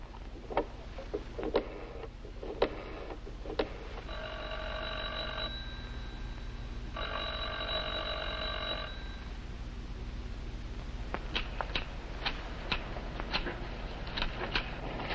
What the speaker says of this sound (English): The phone's been ringing night and day at the Grand Bungalow.